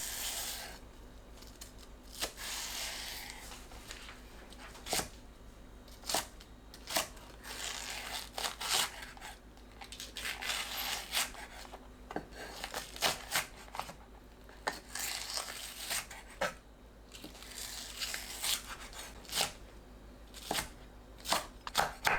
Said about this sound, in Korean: 대파에 칼집 넣고 5cm 길이로 썰어주세요